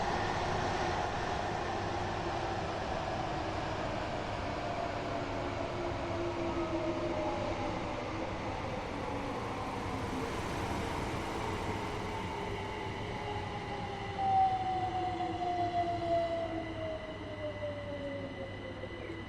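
Train slowing down in a train simulator game, a steady low rail rumble with faint falling whine and squealing tones over nearly twenty seconds, fairly quiet and without talk.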